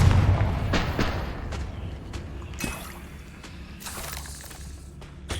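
A Confringo fire-blast spell explodes during combat in Hogwarts Legacy, opening with a heavy boom, then a series of sharp crackling impacts and shattering bursts that fade over several seconds.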